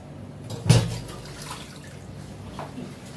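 A small splash of water poured into ridge gourd fritter batter with black cumin, one brief close pour followed by a soft fading trickle in a quiet kitchen.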